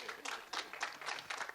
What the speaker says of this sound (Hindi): एक बार इनके लिए जोरदार तालियां हो जाए